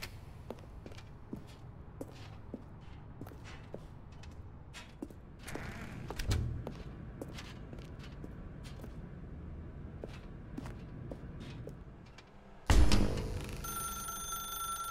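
A telephone ringing in a dark room in The Stanley Parable, starting after a stretch of sparse clicks and footstep-like taps, then bursting in loud and close near the end and continuing bright and steady.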